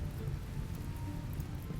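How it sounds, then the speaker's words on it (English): Steady rain falling in the video game RimWorld, a dense, even hiss of drops on surfaces filling the whole moment without pause or voices. "You do realize it's raining out"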